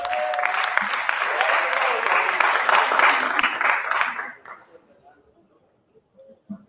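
Audience applause at a democracy and rights festival closing session as a programs manager walks on stage, a full burst of clapping that fades out abruptly after about four seconds, leaving near silence with a faint voice.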